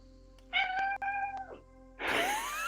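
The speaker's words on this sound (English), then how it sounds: "Did you hear my cat?" A pet cat meows once clearly and close by in a quiet room, its harmonic call falling away, followed by a broader rising second cry or noise at the end.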